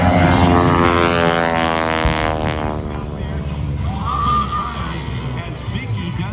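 A propeller aerobatic airshow plane flown by Vicky Benzing sweeps overhead in a loud, continuous drone with shifting pitch as it maneuvers, with an announcer talking over it.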